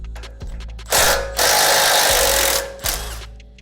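Power tool running in two bursts as it backs out the 12mm and 10mm brake caliper bolts on a Toyota 4Runner, a loud close whir with higher-pitched spinning and a ratcheting start, separated by a brief pause.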